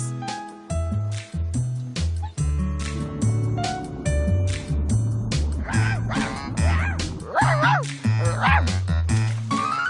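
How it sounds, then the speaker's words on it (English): A cartoon dog barks and yips repeatedly in a bouncy rhythm over music, with a few whimpering, squeaky cries near the end. "There's a dog."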